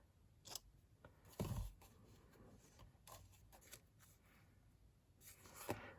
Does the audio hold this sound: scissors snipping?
yes